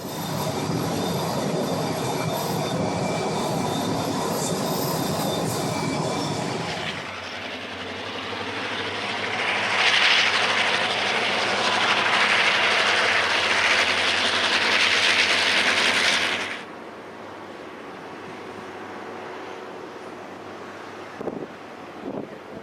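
Santa Fe San Francisco Chief, eastbound passenger Train Number 2 led by warbonnet PA locomotives, rolls into Pinole with a loud sustained rumble and wheel squeal that swells, holds, then drops off abruptly, with wind buffeting the microphone.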